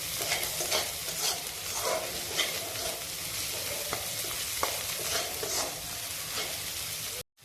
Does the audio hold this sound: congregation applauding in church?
no